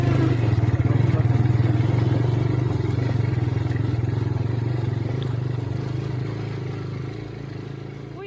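A motorcycle idles and rumbles nearby with a low, steady engine drone and some clatter, then gradually fades and quiets as it is brought to a stop and parked.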